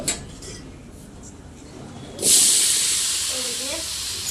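Potatoes dropped into a hot kadai with ginger-garlic paste, bursting into a loud sizzling hiss partway through after a quieter start, with faint utensil clinks.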